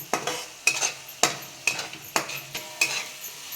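A spice tempering for a spicy sprouted moth bean curry is stirred in a sizzling pan, with regular scraping strokes over a soft fry, close up.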